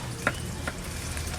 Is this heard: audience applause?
no